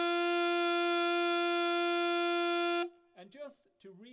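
An alto saxophone holds an alternate-fingered middle D, one steady sustained tone for nearly three seconds, clear and close, then cuts off as a person begins talking.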